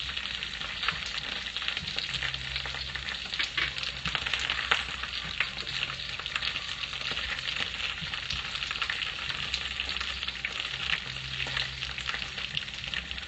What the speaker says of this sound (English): we're sauteing the onions and garlic for the stew